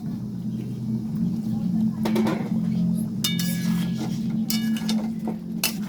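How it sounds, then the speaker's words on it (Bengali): Potatoes stirred in a cooking pot for an egg chicken kosha, giving scattered clinks and scrapes of a spoon against the pot over a steady low hum, with a busier flurry of taps midway. "আলুগুলো দিয়ে ভালো করে এবার একটু নাড়িয়ে নিলাম।"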